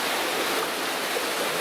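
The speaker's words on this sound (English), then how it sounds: "lots of water running out of there for sure" Water pours steadily out of a flooded mine tunnel in the mud, a continuous broad rushing hiss like a stream, moderately close with no break and no voices.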